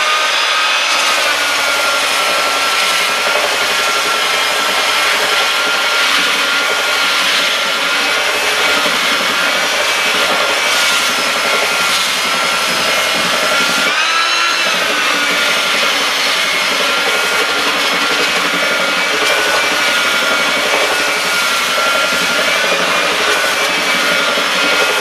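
An Armdillo power sanding tool fitted with 80 grit sandpaper sands wood in a steady, loud, continuous abrasive whir that holds unbroken throughout, with no talking.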